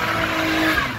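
A Dodge Stratus R/T with a manual gearbox lets out a short, loud tire squeal during a burnout, a piercing screech over engine noise with no talking.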